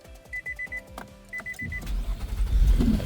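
A 2017 Nissan Pathfinder with a push-button start turns over and settles into a running idle, following a few short electronic beeps, the engine rumble building steadily and close by.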